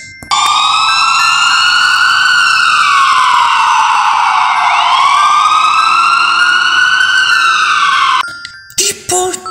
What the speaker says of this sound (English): Ambulance. This is an ambulance.